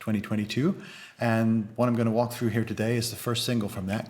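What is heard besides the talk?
No distinct noise like a dog, phone or traffic.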